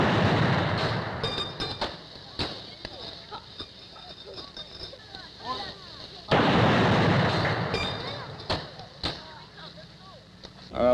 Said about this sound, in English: The President has entered the cemetery and is receiving a 21-gun salute at the present time.